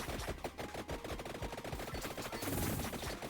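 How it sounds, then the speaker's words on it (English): Guns fire in the video game Vampire Survivors as a dense, rapid stream of small shots and impacts, continuous and fairly faint throughout. "Just keep murdering him with guns"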